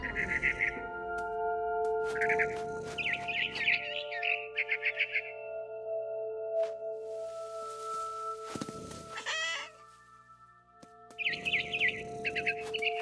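Bright barn swallow chirps in a video game, What Remains of Edith Finch, come in short repeated bursts over a steady electronic tone bed, with brief gaps of quieter ambience between them.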